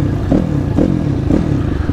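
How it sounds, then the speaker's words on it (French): Motorcycle engines warming up, idling loudly nearby, a steady low rumble with periodic rises in revs about every half second, plus some rattling clatter. "les motos sont en train de chauffer."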